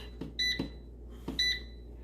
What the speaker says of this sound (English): You want to preheat it, turn it up to 400 degrees and preheat it for about 5 minutes